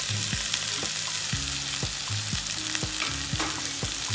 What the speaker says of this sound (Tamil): இப்போ அந்த ஊற வச்ச கிழங்கு மசாலா போட்டுடலாம்.